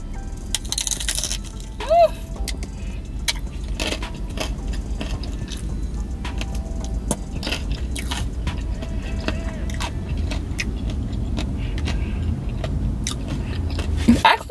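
Crunchy bites and chewing of a crispy Burger King taco, close to the mic, with steady mouth noises and crackles running through the stretch over a low background rumble.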